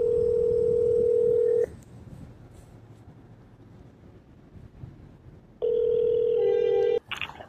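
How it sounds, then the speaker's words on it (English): Telephone line tones during calls to police department numbers: a long, steady electronic tone, a few seconds of quiet line hiss, then a second long tone ending in a click. "Calling several different numbers and no one's answering the phone."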